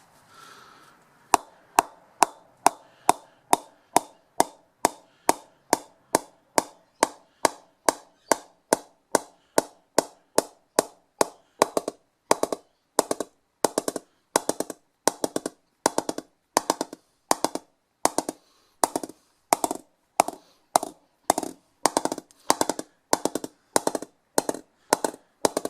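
An SG cricket bat is knocked steadily with a ball or mallet, giving a long run of crisp, evenly spaced wooden pings, close and clear, with no talk.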